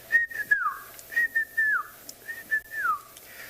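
A person whistles an imitation of a white-faced whistling duck call: three repeated wheezy, falling whistled phrases, clear and close, with short pauses between.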